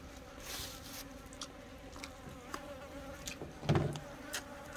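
Flies buzzing around a meal of grilled pogot fish and rice on a metal table, several close, wavering drones that swell and fade, with one loud pass nearby.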